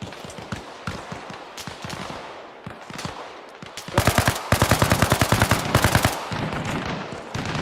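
Machine gun fire in the game Arma Reforger, sparse single shots at first, then loud sustained rapid bursts of automatic fire in dense rhythmic volleys, close and without speech.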